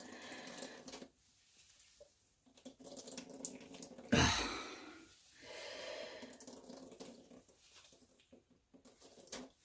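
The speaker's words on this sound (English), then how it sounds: "I'm going to continue until every drop of water is squeezed out" Water is wrung out of grated cauliflower for a pizza crust, giving quiet trickling and dripping in uneven bursts, with one louder splashing gush midway.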